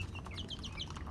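A chicken suffering from a respiratory illness with snoring and runny nose makes soft, quick clucks and chirps, close but faint, over a low background hum.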